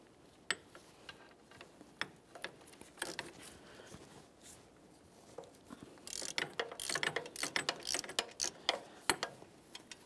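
Ratcheting on the upper mounting bolt of an alternator in a 2012-2018 Nissan Altima engine bay, a long run of quick metallic clicks that thickens and grows louder toward the end, with scattered clanks of tools between strokes.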